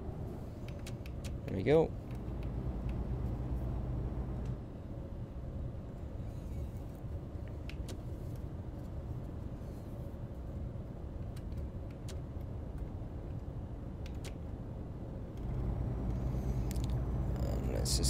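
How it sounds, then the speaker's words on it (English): An Iveco HiWay truck in Euro Truck Simulator 2 slows on its retarder, giving a steady low engine and drivetrain drone throughout while someone talks briefly over it. "Just use the retarder to slow us down."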